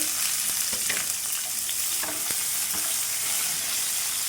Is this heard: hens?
no